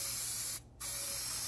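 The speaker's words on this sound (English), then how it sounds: "We're going to spray the HatSaver on the one side" HatSaver protective spray applied to a hat, a loud continuous aerosol hiss right at the can, broken by one brief pause before the spray resumes.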